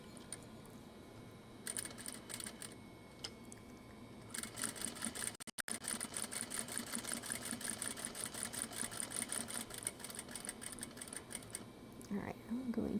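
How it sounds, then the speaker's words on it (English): A sewing machine stitches a fabric pouch, running in rapid rattling bursts with brief pauses for back stitching, close and fairly quiet under faint room noise. "Same thing, a little bit of back stitching."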